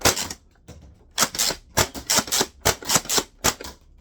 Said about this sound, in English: So this is called a pump action gun. You pump it, you go